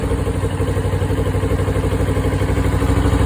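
A 2023 Ninja 650 KRT motorcycle with its stock exhaust idles steadily nearby, a low, even chugging pulse with a slight rattle and no talking.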